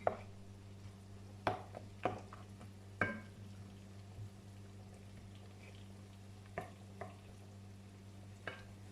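Ginger browned in a pan, then rice stir-fried with it for Thai chicken rice: quiet, scattered scrapes and knocks of a utensil against the pan over a steady low hum, with a few sharper clicks spaced several seconds apart.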